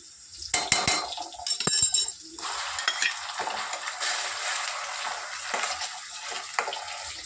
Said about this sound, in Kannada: ಇದೀಗ ಎಣ್ಣೆಗೆ ಚೆನ್ನಾಗಿ ಫ್ರೈ ಆಗಬೇಕು